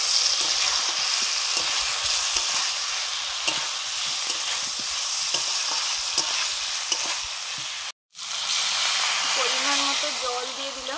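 Fried potatoes and cauliflower sizzle steadily in a pan for a winter cauliflower-potato curry, a continuous close hiss with light stirring clicks, cutting out abruptly for a moment before resuming.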